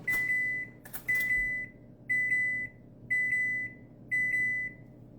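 Kitchen oven chiming after being set to 350 degrees: five steady, evenly spaced electronic beep pairs, clear and fairly close, with a sharper clatter near the second beep.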